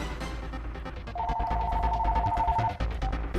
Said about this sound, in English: This phone is always ringing.